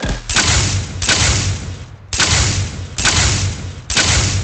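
Loud video game gunfire in an Unreal Engine 4 shooter, five dense, roughly evenly spaced bursts of rapid shots, each roughly half a second to a second long, close and alone without talk.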